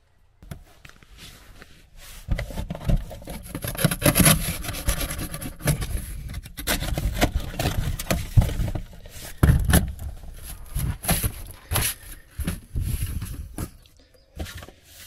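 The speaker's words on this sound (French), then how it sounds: "je vais découper le contreplaqué de la taille du patron" Jigsaw cutting plywood for a camper van structure: rough, rasping sawing strokes that come in uneven bursts with brief pauses, fairly close and without talk.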